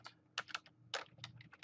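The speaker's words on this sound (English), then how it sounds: "I'm typing too fast." Fast, close typing on a computer keyboard while writing VBA code, with quick irregular bursts of key clicks and a quiet background hum.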